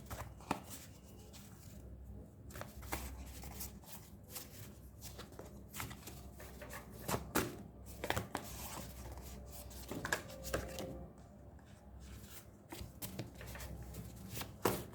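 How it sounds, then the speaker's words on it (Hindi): Tarot cards being shuffled for a reading give soft, quiet riffling and rubbing sounds in irregular bursts, close by and faint, with brief sharper taps between shuffles. "सो अब आपके लिए थोड़ा यूनिवर्स से गाइडेंस के लिए कार्ड्स ले लेते हैं।"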